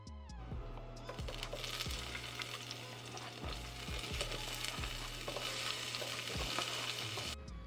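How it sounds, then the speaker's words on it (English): Vegetables fry in hot grapeseed oil in a pan with a loud, constant sizzle. Occasional soft knocks of stirring sound beneath it, and no one speaks. "The sound of anything hitting oil is a go for me."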